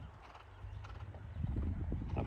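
A horse's hooves thud and clip-clop over ground as it approaches and clears a jump, growing louder and busier toward the end, with a faint low rumble beneath.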